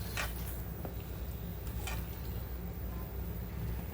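Raw mango pieces for kairi achar cook in a pan, giving a steady, close sizzle and frying hiss with a few soft stirring scrapes throughout.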